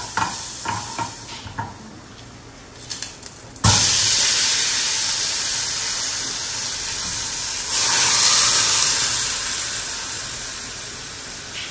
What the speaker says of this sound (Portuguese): Dourar um alhozinho aqui pra poder temperar o feijão.